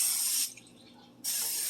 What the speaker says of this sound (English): Make sure you spray the entire area of the cookie sheet.